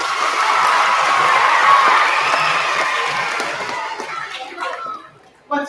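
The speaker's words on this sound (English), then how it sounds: "Clap for the 5th graders." An audience of children and adults claps and cheers for fifth graders at a school Battle of the Books contest, a loud burst of mixed applause and shouting that fades out toward the end.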